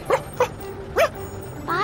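An animated dog gives three short, sharp yips or barks, then a longer whimpering bark, all close and loud with brief pauses between them.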